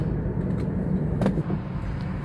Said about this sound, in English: Morning traffic going into town.